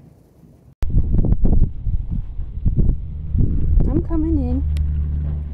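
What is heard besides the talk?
strong wind blowing outdoors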